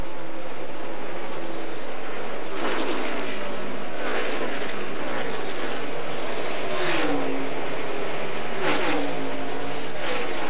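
NASCAR stock cars at the Homestead track roar past one after another in loud, repeated pass-bys with rising and falling engine pitch, about four distinct passes over a constant race-track din.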